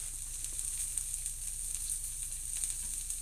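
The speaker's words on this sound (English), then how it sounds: "The sizzle is a lot louder apparently." Steady, hissing sizzle of pancake batter of flour, eggs and milk frying in a hot pan, continuous and close, with a low hum underneath and no talking.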